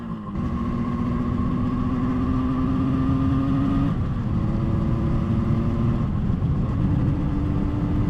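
A Moto Guzzi TS 250 motorcycle runs through the gears after its first start, its engine steady and close, with the pitch shifting as it changes gear and settling into smooth running.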